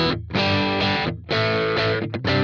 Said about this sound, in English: Let's maybe select a Dynamic 421